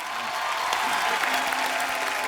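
Studio audience at a comedy talk show applauding, a steady, dense wash of clapping from a large crowd, moderately loud and continuous, with a faint voice briefly underneath.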